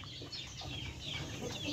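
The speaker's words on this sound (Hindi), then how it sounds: "ये मियाँ वाली मुर्गी और अमरोए का क्रॉस में ये पट्ठा बना हुआ है" An Aseel rooster, a Mianwali and Amroha cross, clucking softly on a farm in Rawalpindi, faint short calls over a steady background hiss.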